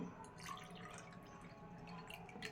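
Water is poured into a container to test it with an ORP meter. Soft trickling and light dripping sound faint and close, with no voices.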